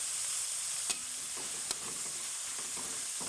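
Chillies stir-fry in a pan with pork for Thai glass noodles, giving a soft, steady sizzle broken by two brief clinks of a spatula and light scraping.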